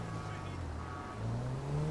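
Car engine from a GTA driving game, a steady droning hum with a rising tone near the end as the vehicle accelerates, loud and continuous with no talking.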